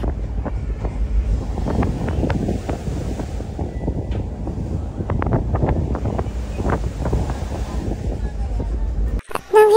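Strong wind buffets the microphone aboard a ship at sea, a steady low roar with gusty surges and rushing water beneath it, continuous and loud throughout before a sudden disturbance at the very end.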